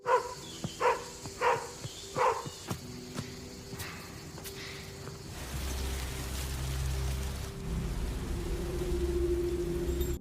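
A dog barks toward a huge old tree near a forest, about five sharp, evenly spaced barks up close, then a steady rain-like hiss with a low rumble takes over.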